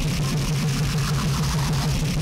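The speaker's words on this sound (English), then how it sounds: "like brutal engine, but with a little bit of real analog distortion on top" A gritty, rumbling engine drones steadily with a pulsing throb, sounding harsh and distorted, then cuts off abruptly.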